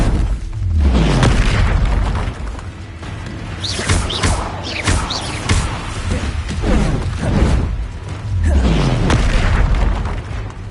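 A Confringo blasting spell in a Harry Potter video game, heavy booming explosions with deep thuds and rumbling bursts recurring throughout, loud and close.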